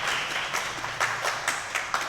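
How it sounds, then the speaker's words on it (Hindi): Audience clapping at a religious discourse, a steady run of sharp, evenly spaced claps at moderate distance, fairly soft. "ताली बजाओ तो अच्छे से बजाओ"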